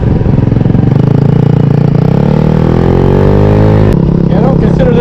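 A Maddog 150 scooter engine fitted with an electric fuel pump runs loud and close, revving up with a rising pitch and then dropping back abruptly.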